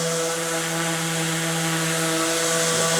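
DeWalt 20V cordless random orbital sander (DW210B) working flat on a piece of wood, a loud continuous close-up motor whine with steady harmonic hum and a broadband sanding hiss, unbroken for the whole stretch.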